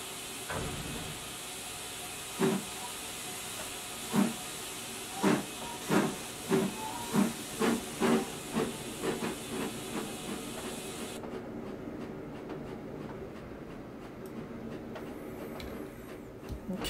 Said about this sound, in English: Okay, so we're going to watch the train arrive into Toddington.